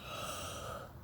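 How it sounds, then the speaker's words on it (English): A single long yawn drawn out over about a second, a steady breathy exhale with a noisy rasp that fades toward the end, close and fairly quiet with no talk around it. "I gotta yawn."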